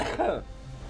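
A single short, close cough during a League of Legends game, loud at the start and then trailing off into quiet background.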